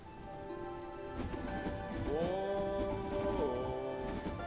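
A steady patter of rain fills the drizzled caves of the video game Hollow Knight: Silksong, while soft, wavering tonal calls drift over it.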